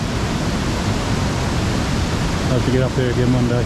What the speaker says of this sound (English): Now this is a very nice section of these falls.